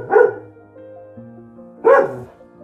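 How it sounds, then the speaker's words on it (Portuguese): A dog barks twice near a fence, each bark a loud, close burst about two seconds apart, with a low steady hum between them and no talking. "tem o cachorro latindo aqui"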